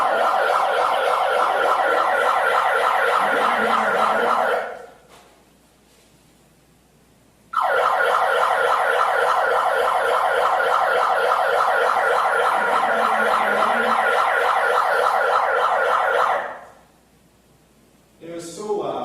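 A siren blares through a bullhorn on a street sidewalk, loud and piercing, in two long sustained bursts separated by a short quiet gap, with a final burst starting at the end.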